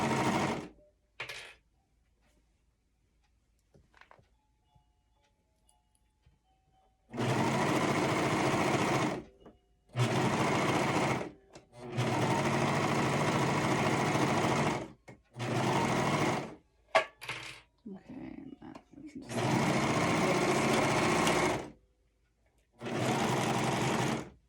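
Serger running in several long bursts while sewing a faux fur infinity scarf, each steady high-speed whir lasting a few seconds with short quiet gaps and faint handling between runs.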